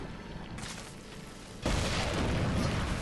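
Shadow bomb exploding in Darksiders 2, a single sudden loud boom that cuts in over a steady ambient rumble and then leaves a sustained noisy roar.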